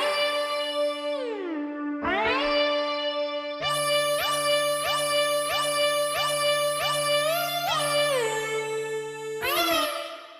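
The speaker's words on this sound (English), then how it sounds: "leads that are playing in the background on the beat." Remade synth lead melody from a hip-hop beat: bright, buzzy sustained synth tones gliding between pitches, joined midway by a steady pulsing rhythmic pattern with a low bass layer, all loud and without speech.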